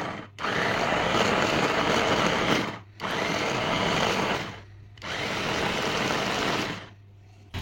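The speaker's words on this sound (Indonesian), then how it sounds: "sisa bawang merahnya ini kita chopper juga ya, karena tadi sebagian bawang merahnya sudah selesai kita chopper" An electric chopper grinds shallots for red Padang sambal in three loud whirring bursts, each about two seconds long, separated by brief pauses.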